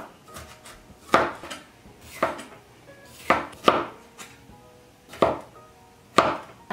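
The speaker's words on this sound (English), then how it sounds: "I'm just gonna cut up some onion for the pasta." A knife chops onion on a cutting board with sharp, close knocks that come in small clusters of two or three, separated by brief pauses, over a quiet kitchen background with no one talking.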